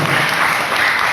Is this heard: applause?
yes